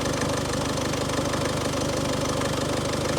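A Ford Fiesta mk6 1.6 TDCi diesel engine idles steadily close by, with a continuous, even, slightly rattly diesel knock that holds without change throughout.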